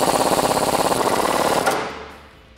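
A ratcheting tool with a 19 millimeter deep socket tightens a suspension stud on a Jeep Wrangler JK during a lift kit install: rapid, even mechanical clicking, loud and close, for under two seconds before stopping.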